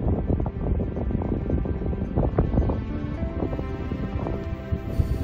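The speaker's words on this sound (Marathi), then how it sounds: "हलक्या वाऱ्यामुळे पाऊल खुणांवरील बर्फ हलकच उडत होतं" Light wind blows across a snowy Himalayan high plateau on the Gupt Khal expedition, a steady rough rumble of gusts buffeting the microphone with faint crunching and rustling underneath, continuous and fairly close.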